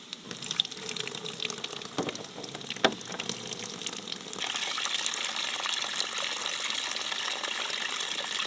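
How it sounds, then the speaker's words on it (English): Water gushes and splashes from a collapsible camping container over dishes being washed at a campsite, a steady close pour that grows fuller and more constant partway through. "I'm able to put water inside of it, and that's how I'm cleaning the dishes"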